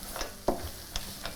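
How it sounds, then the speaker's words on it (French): Leftovers are stirred with a very thin drizzle of oil, giving a few soft, quiet scraping and clinking strokes over faint background hiss. "OK, on mélange tout ça."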